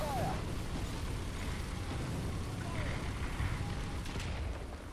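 Rumbling, rolling explosions of incoming artillery in War Thunder fill the whole stretch, a dense continuous low roar of blasts without clear gaps, loud and sustained.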